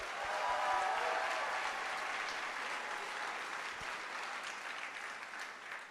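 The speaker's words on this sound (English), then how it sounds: "Big round of applause." Applause fills a hall at a youth TEDx evening event, a dense steady wash of many hands clapping that stays loud throughout and tapers only slightly at the end.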